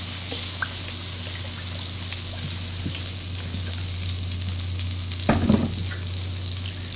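Half a stick of real butter and California Olive Ranch extra virgin olive oil sizzle in a fully preheated skillet, a steady hiss throughout with a brief louder burst of crackling near the end.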